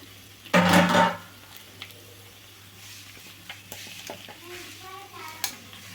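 Freshly ground grated coconut is stirred into frying bottle gourd in a pan: one loud, close scraping burst early on, followed by sparse, soft spoon scrapes and light sizzling.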